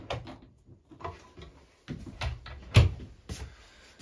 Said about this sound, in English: Little pull out drawer there.